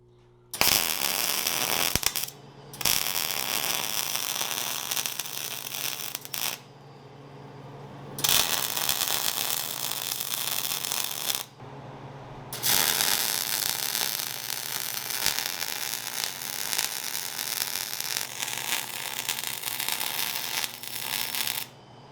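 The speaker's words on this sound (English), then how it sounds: "What we did there is we welded all the seams up." Seams on a copper damascus (Cu-Mai) billet are welded in several long bursts of loud, harsh crackling and sizzling arc noise, separated by short quiet gaps.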